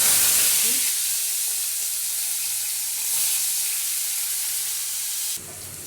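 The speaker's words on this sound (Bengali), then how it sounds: "মাথাটা ভালো করে ভাজা হয়ে গেছে" Hilsa fish head rubbed with salt and turmeric frying in hot oil in a wok, Bengali home cooking: a loud, steady, close sizzle that carries on unbroken and drops off sharply just before the end.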